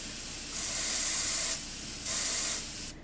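An airbrush sprays paint onto a model ship, giving a steady loud hiss that swells in two longer bursts and then cuts off, close up with no talk.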